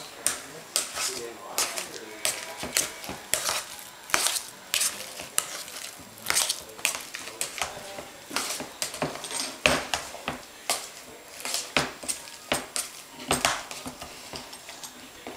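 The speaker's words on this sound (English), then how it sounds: "we are ready for our mashed potatoes, which I will mash up here" Potatoes being mashed in a metal pan with a masher, a steady run of sharp scraping clacks and squishy thuds repeating every half second or so, close up and continuous throughout.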